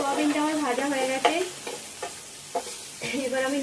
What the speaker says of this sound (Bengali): সোয়াবিনটা আমার ভাজা হয়ে গেছে,